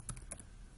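A couple of quick, soft keystrokes on a computer keyboard as a password is entered, faint against a low background hum.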